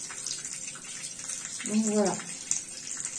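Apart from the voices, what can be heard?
rinsing a makeup sponge under hot tap water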